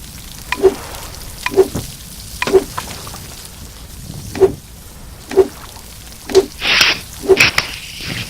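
Crab sizzling over a campfire in the survival game Stranded Deep, a soft steady frying hiss broken by a regular series of short crackling pops, about one each second, with no talk.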